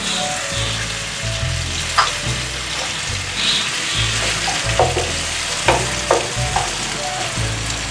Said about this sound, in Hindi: लहसुन अदरक के पेस्ट के साथ ही हम इसमें जो है वो टमाटर ऐड कर रहे हैं।